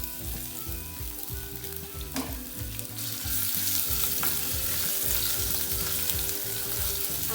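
Cumin seeds and garlic fry in oil as the base for a prawn gravy, giving a close, continuous crackling sizzle that grows slightly louder partway through, mixed with soft stirring scrapes and no voices.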